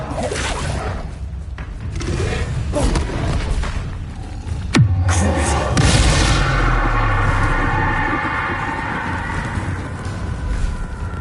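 A Bombarda blasting spell goes off in Hogwarts Legacy, one loud booming explosion rising out of busy game noise and fading into a low rumble.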